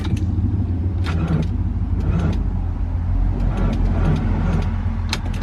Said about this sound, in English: now when I try and crank it, it acts as if the battery is dead